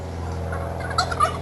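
A flock of farm ducks in a garden calls out near the neighbour's property, with a run of quick, nasal, bursty cries over a constant low hum.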